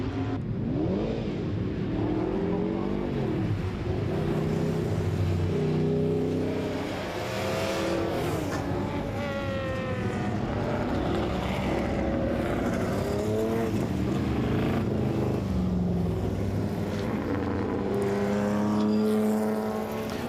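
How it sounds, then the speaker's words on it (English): Group S race cars at the 2025 Winton Festival of Speed, Winton Raceway, roar around the track, several engines revving, shifting and passing in overlapping waves, loud and continuous without talk. "we're right back into it to the Group S cars rolling out on track"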